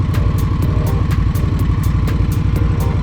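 An Indian Scout Bobber motorcycle's V-twin engine running at low speed in second gear with the brake held, a steady loud close rumble with rapid even firing pulses and a mechanical clatter on top.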